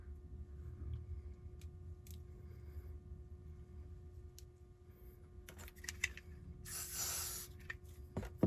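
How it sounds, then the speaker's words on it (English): Short hissing bursts of wig adhesive spray, a lacefront wig being glued down, come in quick close spurts, with one longer hiss near the end over quiet handling noise. "So I'm just gonna use the spray."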